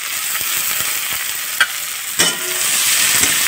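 Onions sizzling in hot oil in a pan, a loud bright continuous hiss with a few soft stirring knocks scattered through it.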